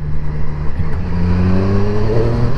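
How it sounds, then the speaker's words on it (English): Close, loud exhaust note of a 2020 Triumph Street Triple RS 765 motorcycle under throttle, its engine pitch climbing smoothly through a rising rev. "That's the first thing you notice when you give it the gas is the note from the exhaust."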